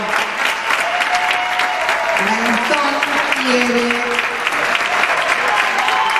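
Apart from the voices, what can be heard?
audience applause for tango dancers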